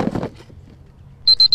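A few rapid high-pitched electronic beeps in quick succession, loud and close, after a brief rustle.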